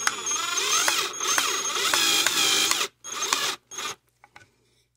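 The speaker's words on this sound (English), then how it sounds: "I'm just going to hit it with a drill, nice and slow." A power drill slowly driving a screw into a wooden turkey box call whirs steadily for a few seconds, then stops, followed by a couple of short bursts and some faint clicks.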